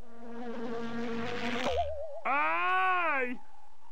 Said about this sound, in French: Ah! Une abeille!